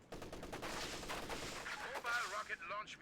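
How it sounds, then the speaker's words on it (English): Dense machine gun bursts and scattered gunfire rattle continuously through a Company of Heroes 2 battle, loud and overlapping, with brief whistling tones near the end. "MG's positively everywhere."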